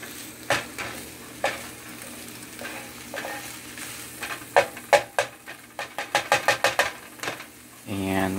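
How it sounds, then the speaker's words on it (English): Pork fries and sizzles in a pan for a lo mein stir fry cooked in a van, as a utensil stirs with scattered scrapes that quicken into a rapid run of close clatters. "let's stir this up a little bit more"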